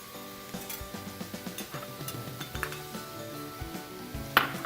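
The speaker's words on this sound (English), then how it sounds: "Give this a stir and let these cook until the onions are translucent and the mushrooms are soft" Chopped onions, mushrooms and mashed garlic cooking in a pan, a low sizzle under repeated clinks and scrapes of a utensil stirring against the pan, with a sharper metallic knock near the end; no voices.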